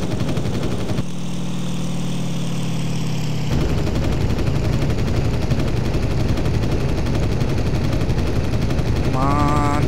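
Aircraft engine drone in IL-2 Sturmovik 1946 with machine gun fire from the plane, a loud continuous roar overlaid by steady rapid rattling that keeps going through the whole stretch, with no talking.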